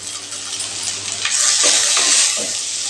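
Tomato and tamarind sautéing in hot oil in a pan for a chutney, a close steady sizzle with spoon stirring scrapes, no talk.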